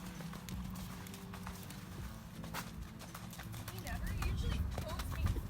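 Horse hooves clip-clop in an uneven rhythm during a ride on a rescue horse, fairly close, with wind noise and a voice talking over the hoofbeats.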